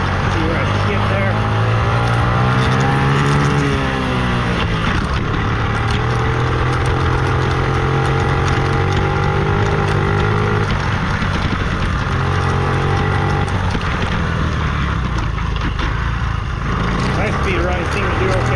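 A 1984 Honda Z50 minibike engine on a high speed run, a loud, steady buzzing drone that climbs and shifts in pitch throughout, with a rider talking over it.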